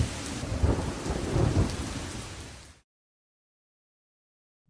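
Steady heavy rain pours with low rumbling thunder for a few seconds, then cuts off abruptly into silence.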